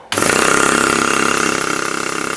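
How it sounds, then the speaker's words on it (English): A small air compressor in a workshop where a model steam engine is being built starts up abruptly and runs loud and close, with a steady rapid pulsing chug that holds through the end. "my little compressor kicks out a rather large amount"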